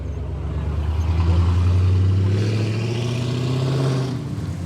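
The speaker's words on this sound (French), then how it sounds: "cette zone commerciale de l'Oise fait place au chant des moteurs et aux carrosseries rutilantes" A tuned car engine at a monthly tuning meet in a shopping-area car park in the Oise rumbles deep and steady, building in a loud rising rev before easing off, close by with no talking.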